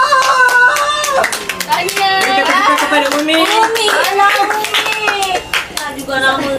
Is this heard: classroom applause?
yes